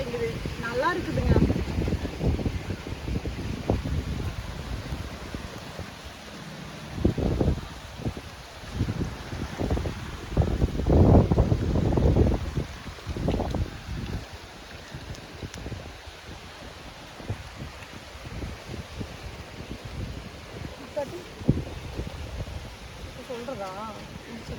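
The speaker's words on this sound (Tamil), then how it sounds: "பயங்கரமான காற்று பாருங்க, பனைமரம்லாம் எப்படி ஆடிட்டு இருக்குதுங்க." Strong gusty wind sweeps through palm trees beside a small village canal, roaring and buffeting the microphone in surges with leafy rustling throughout, while people talk at times under the wind.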